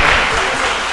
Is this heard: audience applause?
yes